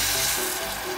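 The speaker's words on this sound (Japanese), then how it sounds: "はい、そしたらですね塩コショウもしてありますから、水を入れます。" About 280 cc of water poured into a Staub pot over rice sautéed in butter for a pork curry, a steady rushing hiss and sizzle, close and even throughout without a break.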